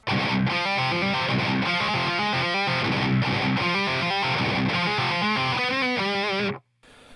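Distorted electric guitar plays the full section of a song slowly and in order, a dense run of heavy chugging notes and shifting riff figures, loud and close throughout, stopping abruptly near the end.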